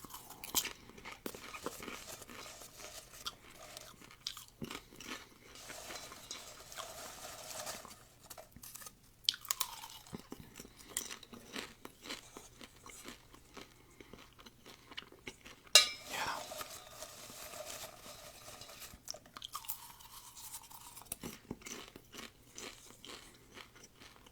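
Popcorn eaten close to the mic from a bowl, with soft crunching and chewing bursts recurring through a quiet, intimate ramble, plus faint rustles and light clinks of the bowl.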